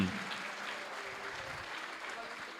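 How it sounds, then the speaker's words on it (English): Audience applause for award winner Sesngom at the SHE Awards Gambia 2022 ceremony, a steady dense wash of clapping from a large crowd throughout, with faint voices mixed in. "Ladies and gentlemen, round of applause for Sesngom"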